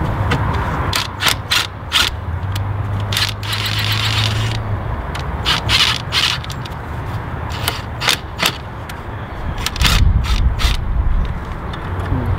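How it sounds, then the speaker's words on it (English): A cheap cordless power tool working on car parts of an Audi A4 B6 during an oil change, giving loud, close bursts of rapid ratcheting clicks and a brief motor whir, repeated in short spurts with no talk. "And power tools help."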